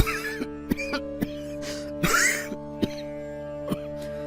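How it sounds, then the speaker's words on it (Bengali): An animated character who is unwell with a persistent cough gives several short, dry coughs and throat clearings at intervals over a steady sustained musical tone. "আমার শরীরটা বিশেষ ভালো না, কাশিটা খুব ভোগাচ্ছে"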